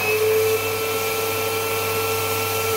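An electric balloon inflator runs in a steady, loud, even whine while it fills a 5-inch Qualatex latex balloon, with a slight change in pitch near the start and no voices.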